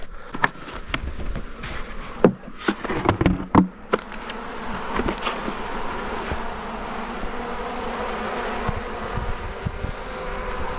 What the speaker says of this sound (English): I see bees in there.